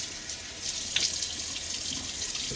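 Steady running tap water hisses from a faucet into a sink for wetting the face before a wet shave, constant and moderately quiet with no talking.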